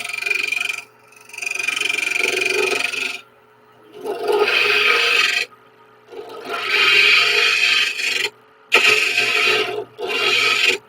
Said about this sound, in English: Just doing a shear scrape here.